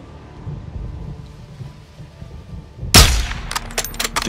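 A single sharp sniper rifle shot in Call of Duty: Modern Warfare II cracks out loud after a quiet windy stretch, followed by a rolling echo and a few smaller clatters.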